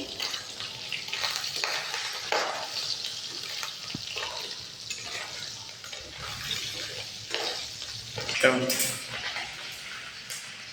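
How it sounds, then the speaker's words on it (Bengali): Fish frying in a pan of oil, cooked in Kerala, gives a steady broadband sizzle at moderate loudness with scattered clatters and a few louder bursts throughout. "বাকি মাছগুলো ভেজে নিব।"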